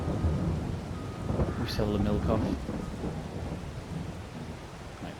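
Steady rain and rolling thunder in the video game Farming Simulator 22, a dense continuous wash with a louder rumble midway, under a voice talking.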